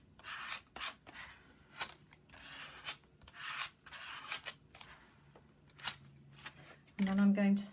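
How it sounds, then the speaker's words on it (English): A credit card is rubbed over glued tissue paper in an art journal, giving short repeated dry scraping strokes at close range with brief pauses between them. "just grab a credit card just to make sure that that's glued down properly"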